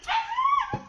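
A dog on a family farm whimpers in a single high, thin whine that rises and falls over about a second, close by with no talk over it.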